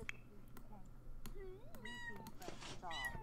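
A pet cat in The Sims 4 meows in a few short, rising calls, clear and close over a soft game-music bed.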